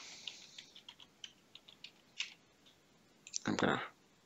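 Password being typed on a computer keyboard: a quiet run of separate key taps at an uneven pace, followed by a louder clustered clatter near the end, in a hushed room.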